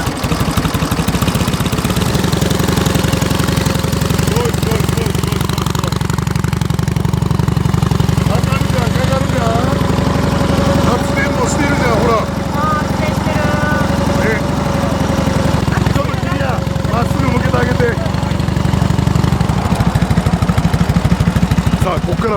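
A 1935 Indian motorcycle engine runs steadily after being started and is revved, a loud, continuous rumble with rising throttle bursts, while people talk over it throughout.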